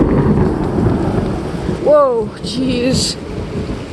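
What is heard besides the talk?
heavy rain and thunder during a hurricane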